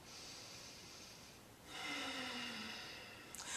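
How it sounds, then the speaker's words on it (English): A single deep breath drawn in slowly through the nose, soft and close in a quiet room, swelling midway and then easing off. "Yes, deep healing breath."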